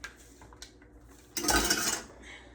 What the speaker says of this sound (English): Now I can put all this in the sink